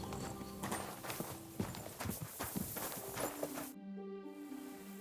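Horse hooves clip-clopping in the medieval video game Kingdom Come Deliverance II, a steady close walking rhythm of hoof strikes amid ambient game sound that cuts off near the end.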